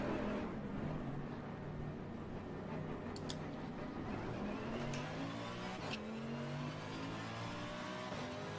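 A Porsche race car engine at Suzuka in the rain, racing game, drones steadily at moderate distance with a continuous roar and slight pitch shifts, no talk.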